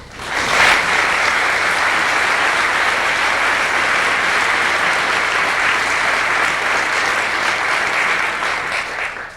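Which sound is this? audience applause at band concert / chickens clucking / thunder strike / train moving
audience applause at band concert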